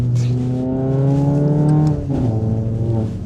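A 2.0-litre Mercedes-Benz CLA45 AMG engine revs loud and close, its rising growl holding steady before dropping briefly and surging again, with no voices over it.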